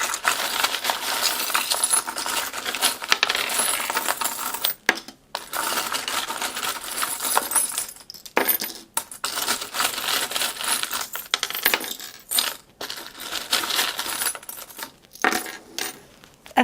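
Metal tarot charms are shaken and dropped, giving a dense, bright jingling and clinking that runs almost continuously and close up, broken by a few brief pauses.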